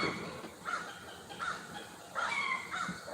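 Several crows caw near a porch outdoors in harsh, repeated calls, some overlapping, at moderate distance over a steady background hiss.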